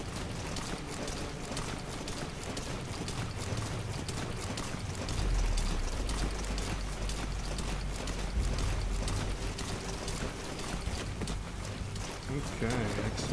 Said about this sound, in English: Oh, sweet, it's raining.